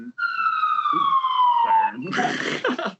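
An emergency siren wails in a New York City street, a loud, close tone gliding steadily downward for about two seconds before breaking into a harsher blast of noise, with brief street sounds around it.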